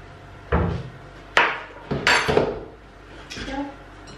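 Banana cake batter stirred in a bowl with a spoon, heard as several separate knocks and scrapes against the bowl, some sharp and some softer, spread unevenly across a quiet kitchen.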